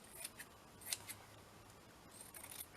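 Scissors snip through craft material in a few short, crisp cuts that are close but fairly soft, separated by brief quiet gaps with no one talking.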